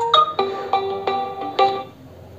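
A Realme GT Neo 3 phone plays a ringtone preview, a bright synthetic melody of short tonal notes in a quick rising-and-falling pattern that fades out after a couple of seconds.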